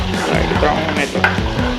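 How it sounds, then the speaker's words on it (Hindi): Masala spices sizzle in a hot pan while being stirred, a steady frying hiss with scraping stir strokes over a constant, fairly loud background; no one talks. "और अब हम इसे ज़रा लाइट ब्राउन होने तक हिलाएंगे"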